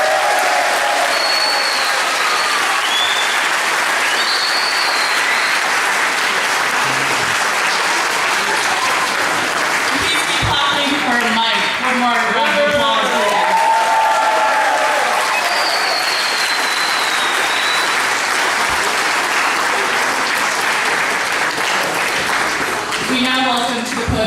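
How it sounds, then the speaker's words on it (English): Wedding guests in a tent applaud the couple with sustained, dense clapping lasting throughout, with a few voices and cheers rising briefly mid-way above the steady applause. "A big round of applause for Diya and Darrow"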